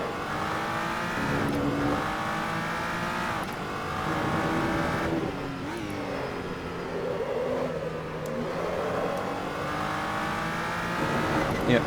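A GT3 race car in the Assetto Corsa game accelerates around the Nurburgring GP circuit, its engine rising through the gears in repeated loud revving climbs with brief drops at each shift, while someone talks over it.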